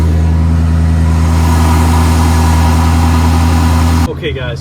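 A 1995 Ford F-150's 5.0 V8 idles close and loud, a steady low rumble with a faint hum, until a brief clunk and shift near the end.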